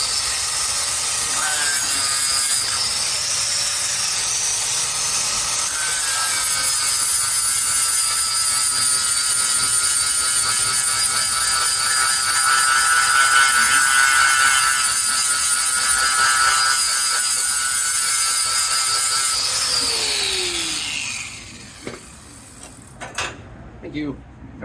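Welding on a steel trailer frame while finishing trailer sides: a loud, continuous buzzing crackle holds steady for about twenty seconds, then stops, leaving faint clanks and scrapes nearby.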